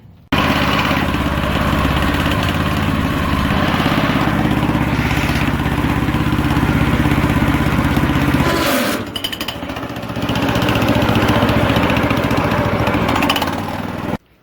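A 1940s Lincoln garden tractor engine runs loud and close with a steady mechanical chug, briefly cutting out and then revving back up before dropping off at the end.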